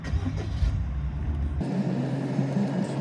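A car engine, fitted with a DPF delete emulator, rumbles, then its sound shifts abruptly partway through as it catches and settles into a steady running hum.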